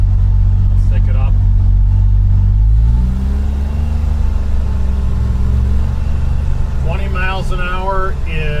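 A Polaris Ranger Northstar UTV engine pulls away and climbs in pitch as it accelerates, its loud close drone rising steadily, with a person talking briefly over it near the end.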